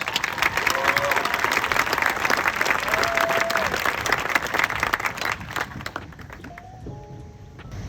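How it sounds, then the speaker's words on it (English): A high school graduation audience at the Rochester commencement breaks into dense, loud applause with a few cheering voices. The clapping holds strong, then thins and fades after several seconds. "Please give her a nice round of applause."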